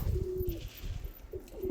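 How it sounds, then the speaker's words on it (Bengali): Pigeons coo close by as they gather to be fed, a few soft low calls spread across a short moment with light rustling between them. "দেখতে পাচ্ছেন সব কবুতর চলে আসছে"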